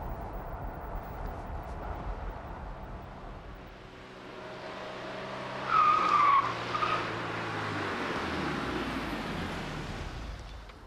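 A 1989 Renault 19 with a 95-horsepower engine runs an evasive maneuver test. The engine drones steadily, then tires squeal sharply for a second or two at moderate distance before the car settles back to engine noise.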